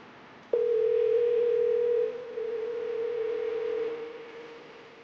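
An outgoing phone call goes unanswered: after a click, a steady electronic line tone sounds loudly and continuously for several seconds, dipping slightly partway through, with no voices.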